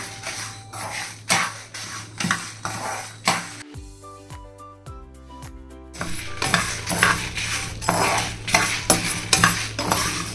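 Chana dal, cinnamon and cloves dry-roasting in a pan, with repeated scraping and stirring strokes over a soft sizzle, interrupted midway by a burst of melodic music before the rhythmic stirring resumes.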